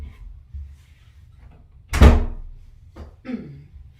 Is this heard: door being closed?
yes